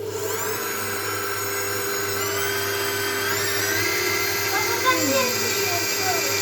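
An electric mixer whirs steadily as it whisks gluten-free eclair batter, a constant high-pitched motor whine that holds for several seconds while people talk in Turkish over it.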